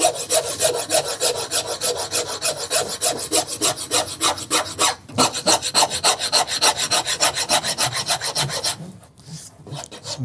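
A rasp smooths a shoe surface in a traditional shoemaking workshop, producing steady, rhythmic scraping strokes that are loud and close, with a brief pause before the rasping resumes.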